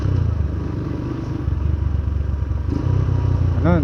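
Motorcycle engine revving during rev matching, a loud, close, throbbing idle that swells into throttle blips with a rising whine at the end.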